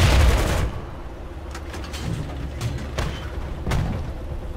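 Tank cannon fire in the War Thunder video game: a heavy boom opens, followed by several sharper, lighter shots and impacts spaced across a steady low rumble, fairly loud with no voices.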